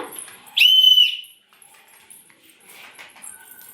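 A child's whistling toy car, pressed down and released to roll, gives one bright sliding whistle near the start, followed by faint rattling and soft movement noises.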